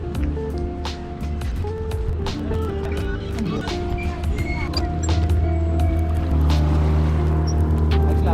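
A boat out on Yercaud Lake chugs along with a steady low motor drone and water sloshing, close up and fairly loud, with occasional faint knocks and creaks.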